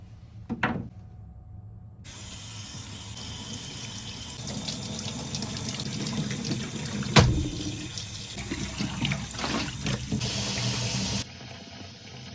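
Tap water runs steadily into a sink as an ice-dyed shirt is rinsed, a continuous close splashing rush with a brief knock partway through, then the flow cuts off.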